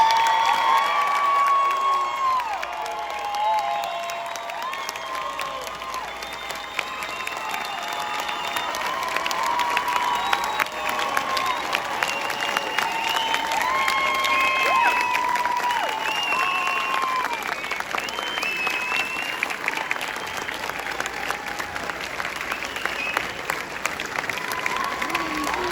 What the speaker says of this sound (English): Let's give a big round of applause for our EMTs.